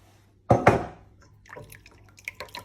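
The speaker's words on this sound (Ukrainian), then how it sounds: "Виливаю 100 грам розтопленого масличка" Melted butter, 100 grams, is poured into a milk, sugar, egg and yeast mixture for plum and apple pastry dough, giving a brief close splash followed by a few faint drips and small kitchen sounds.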